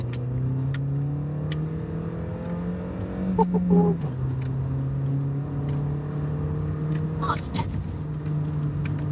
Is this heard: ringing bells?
no